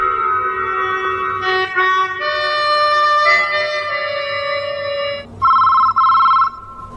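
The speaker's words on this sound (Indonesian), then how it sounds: "Dan tak lama telepon pun berdering" A telephone rings with repeated bright electronic trills in bursts, loud and close, with no talk over it.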